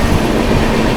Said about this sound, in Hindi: सामने से जो ट्रेन आ रही है वो है आप लोगों की कन्याकुमारी डिब्रूगढ़ विवेक एक्सप्रेस